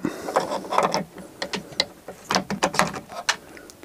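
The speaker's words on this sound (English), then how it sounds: "At this point we're going to put the motor back onto the gear drive, just like that." Metal parts of a gear drive clack and clink as a motor is fitted back onto it, a run of sharp, irregular close knocks and taps over about four seconds, with no talking.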